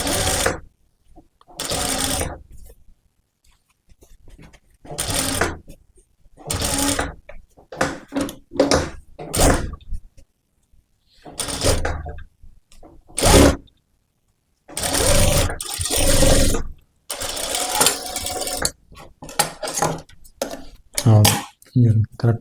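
A sewing machine stitches a blouse seam in many short, stop-start runs of close mechanical whirring, separated by silent gaps, with someone talking between bursts.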